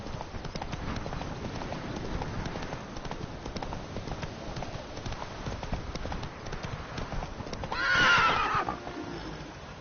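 Roach, a horse in the video game Witcher 3, gallops with a fast, rhythmic clip-clop of hooves, then gives a loud, close whinny near the end while the hoofbeats keep going.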